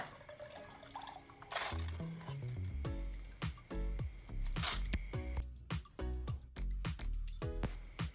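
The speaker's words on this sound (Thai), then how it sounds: "จากนั้นเราก็จะ เทน้ำแล้วก็จะส่งใส่หวดนะคะ เพื่อที่จะให้ข้าวเหนียว เสด็จน้ำค่ะ" Water poured over soaked glutinous rice in a woven steamer basket and draining through it, with splashy pours and steady trickling up close, and no talk.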